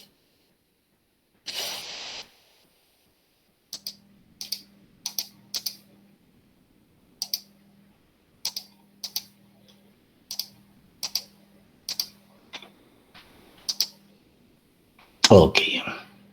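Keys on a computer keyboard are pressed one at a time in a slow, regular series while text is deleted, each click sharp and close in a quiet room with a faint low hum, ending in a louder rustle.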